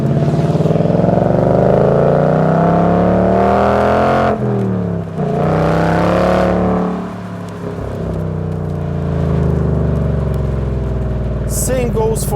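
2019 Ford Mustang Bullitt V8 engine pulling hard with a deep, rising rumble that climbs through revs, dips briefly, then builds again, heard from inside the car under a loud, steady drone.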